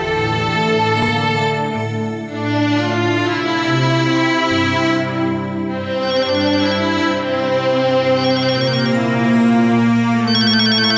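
A melodic phone ringtone loops loudly and continuously while an outgoing call waits to connect, with no talking over it.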